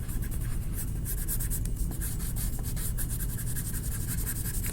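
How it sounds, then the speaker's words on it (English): Colored pencil scratching across paper while coloring a cardinal bird, a steady close rasping scrape with quick back-and-forth strokes, continuous and fairly loud, no talk. "I'm probably pressing a little harder on the pencil lines."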